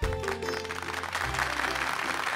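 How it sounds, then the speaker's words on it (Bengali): An audience at a club event claps together, a brief dense patter of applause with a low hum of music underneath. "একটা জোরে হাততালি হয়ে যাক"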